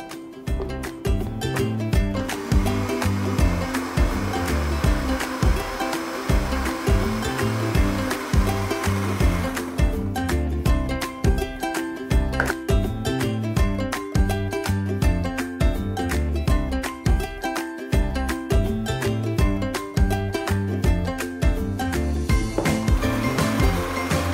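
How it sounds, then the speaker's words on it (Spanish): A blender whirs continuously at close range, pureeing a sugar-free topping for a healthy carrot cake, its loud motor drone and grinding chop shifting in pitch partway through as the mixture loosens, with no talking. "Y esto vamos a llevar para licuar."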